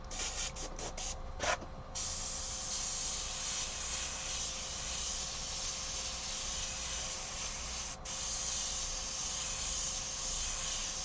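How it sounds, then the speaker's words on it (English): An airbrush sprays black paint at a high 60 to 80 PSI, giving a steady, close, continuous hiss that runs unbroken throughout with no voices. "So I am airbrushing at a surprisingly high PSI."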